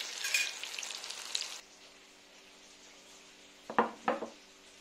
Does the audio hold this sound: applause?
no